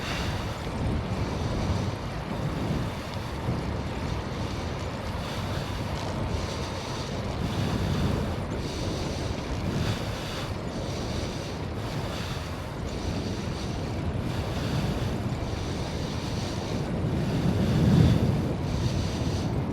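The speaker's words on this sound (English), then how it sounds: "There's a lot of wind today." Strong wind buffets the microphone in a steady, loud, low roar during a 22-mile outdoor bike ride, with gusts swelling and fading and no voices over the rumble.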